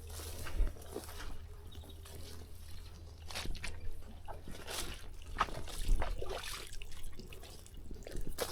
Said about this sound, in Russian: Ну и так ручей течет.